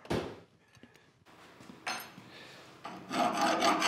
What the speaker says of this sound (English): So I'm gonna take a file to it here.